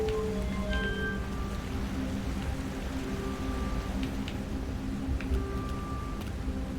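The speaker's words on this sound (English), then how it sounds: "Or it sounds like rain or something." Steady hiss of rainfall in the video game Outer Wilds, continuous and fairly loud throughout, with faint soft tones drifting through it.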